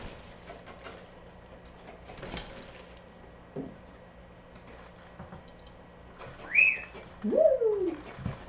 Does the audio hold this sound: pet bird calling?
yes